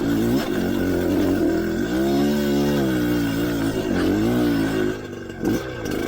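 Kayo 250 two-stroke dirt bike engine revving loudly and steadily up close, its pitch rising and falling through several throttle swells before easing off near the end.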